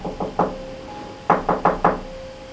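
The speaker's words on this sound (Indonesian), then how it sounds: "mengetuk pintu kamarnya" Knocking on a bedroom door: a quick group of three knocks, a short pause, then four firmer knocks, close and distinct, with a faint steady tone underneath and no talk.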